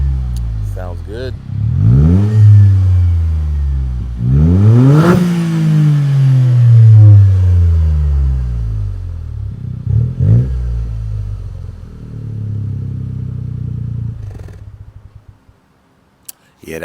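With a microphone mounted at the rear, a Toyota GR Corolla on a 2J Racing exhaust barks through several hard revs that rise and drop back, then settles into a deep, burbling idle before going quiet.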